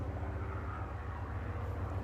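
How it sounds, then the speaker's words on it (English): A helicopter drones overhead, a low steady rotor hum with faint rhythmic thumping, quiet and distant behind an indoor chair yoga class. "Helicopter needs to go away."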